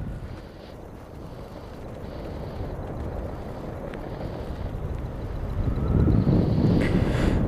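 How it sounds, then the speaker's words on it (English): Wind roaring across the microphone while paragliding along the coast, a continuous low buffeting rumble that swells louder near the end, with no talking. "The wind seems to have picked up."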